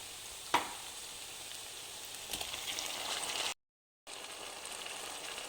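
Tomatoes added to a pan of fried onions give a soft, steady sizzle, with a sharp clack as they land and light stirring, quiet and close with a brief dropout.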